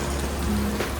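Steady rain falls across a city in Kuala Lumpur, Malaysia, giving a dense, even hiss with a faint low hum running under it and no voices.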